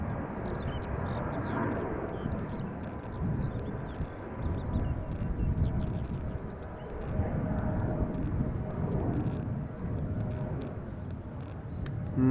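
An Air Serbia airliner on the runway at Schiphol's Polderbaan gives off a steady, moderately distant low engine rumble that rises and falls gently, with faint bird chirps above it.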